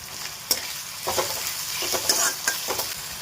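Chopped onion and tomato fry in a pan with oil, mustard seeds, asafoetida, crushed garlic and green chilli, a close crackling sizzle with repeated scraping stirs of a spoon against the pan.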